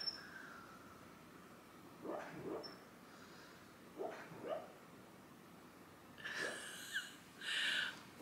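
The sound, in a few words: dog making noises while dreaming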